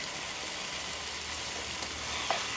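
Paneer butter masala gravy fries in oil in a pan, giving a steady, soft sizzle with no talk.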